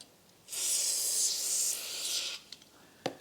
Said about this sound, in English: I'm going to spray some D-grip in it, trying to loosen that up.